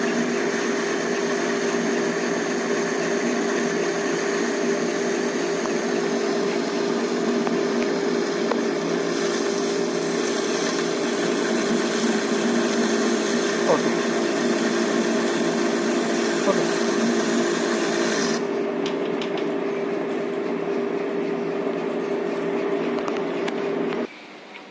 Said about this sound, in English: This is the turning operation.